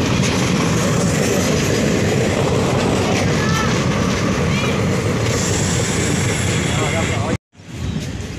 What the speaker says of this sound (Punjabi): ਟ੍ਰੇਨ ਆ ਚੁੱਕੀ ਆ ਅਤੇ ਚੱਲੇ ਆਈ ਹੁਣ